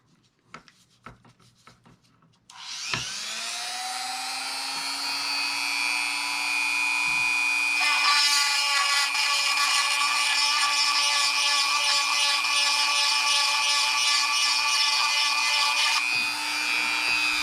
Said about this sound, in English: I'm drilling on this plastic box